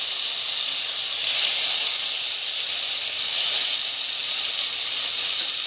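Chopped tomatoes hitting a hot pan of oil with cumin for paneer biryani, a loud steady hiss that swells slightly a couple of times and holds close and continuous throughout, with no talking.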